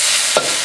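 Pork and vegetables stir-frying in a hot wok, a continuous loud close sizzle with a single quick scrape of the spatula midway and no speech.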